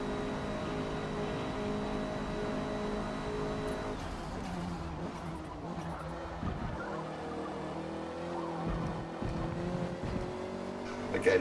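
Racing car engine drones steadily near and loud throughout, a Honda Civic Type-R touring car under full throttle in Forza Motorsport, its pitch shifting with gear changes and faint tire noise mixed in.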